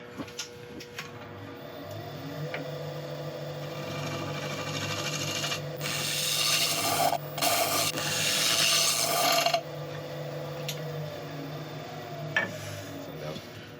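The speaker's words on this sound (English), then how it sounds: "scrape from the bottom and on the sides, just sort out a few inconsistencies" A turning tool scrapes a willow wood bowl spinning on a lathe, a steady rasping hiss that swells during a few seconds of heavier cutting, over the constant drone of the lathe motor.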